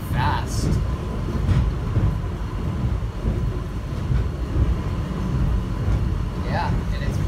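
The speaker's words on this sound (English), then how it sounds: "This is why I love the subway train so much here in the airport, because it is so fast." An airport subway train running fast toward Terminal C makes a continuous loud rail rumble and rushing noise inside the car, with short squeals near the start and end and a voice talking at times.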